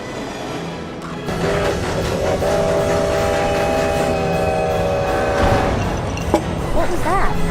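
A runaway train rumbling along the rails, steady heavy rolling noise with sustained horn tones and clacking, growing louder after a quiet start, with a voice briefly heard near the end.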